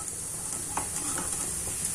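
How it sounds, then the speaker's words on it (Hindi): Malpua frying in hot ghee, a soft continuous hiss and crackle of oil with faint occasional bubbling pops, quiet and steady with no talking. "ऐसे गरम घी में हमें मालपुए डालकर फ्राई कर लेना है।"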